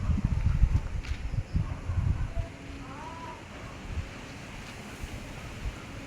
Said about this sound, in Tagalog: Lakas na yung hangin.